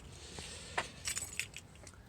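Keys jangle in short bursts near a 1999 Chevy Silverado 2500 as a vehicle key is handled before powering up, several quick metallic clinks close by with no talking.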